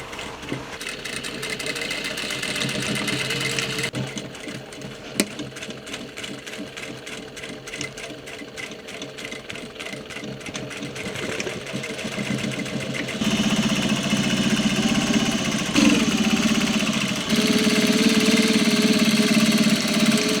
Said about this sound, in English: and then we'll sew it, top stitch the sides